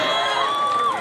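A crowd at a traditional Indonesian bird or contest event shouts and cheers continuously, with raised whoops and voices sustained loud and dense throughout the brief moment.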